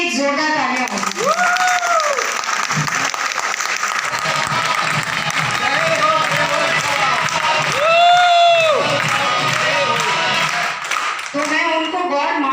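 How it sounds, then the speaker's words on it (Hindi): Loud audience applause at a motivational business event, a dense wash of clapping that runs throughout while a voice speaks and rises over it at intervals. "तो उनके लिए एक जोरदार तालियां होगी"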